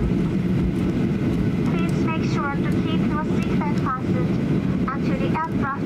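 Cabin of Japan Airlines flight 201 from Haneda on final approach to Centrair, Chubu International Airport, with a loud steady engine and airflow roar filling the cabin and faint muffled voices or chimes above it.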